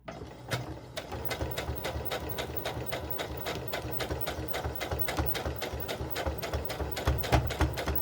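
A home sewing machine runs steadily at a quick, even stitching rhythm while sewing a doll bodice's shoulder seam, close and continuous with no talking.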